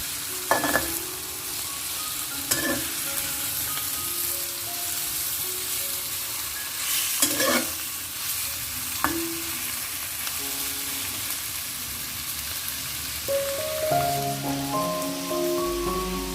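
Tomatoes sizzle steadily in a hot pan for prawn curry, a constant crackling hiss broken by occasional scraping stirs of the spoon, heard close up without any voices.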